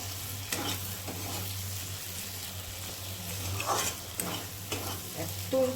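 Prawns sizzle and hiss in hot oil while being stirred, with repeated scraping strokes of a spoon or spatula against the pan over a constant frying crackle.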